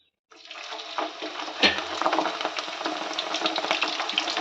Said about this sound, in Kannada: ಈ ಥರ ಕುದಿ ಬರಬೇಕು ಗೊತ್ತಾಗ್ತದಲ್ಲ ಎಣ್ಣೆ ಮಳ್ತಾ ಇದೆ ಮತ್ತು ನೊರೆ ನೊರೆ ಆಗಿದೆ